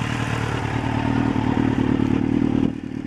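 A 2003 Kawasaki Z1000 motorcycle with a Muzzy exhaust idles close by with a steady, throbbing engine note and a faint mechanical clatter, dropping slightly in level near the end.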